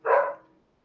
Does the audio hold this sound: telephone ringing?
no